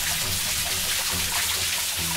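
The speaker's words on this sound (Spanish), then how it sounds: "¡Ah! Hay mucha agua aquí." Water rushing steadily through a narrow stone channel inside an old stone mill, a continuous broadband wash with low rumble, close and fairly loud, with no talking.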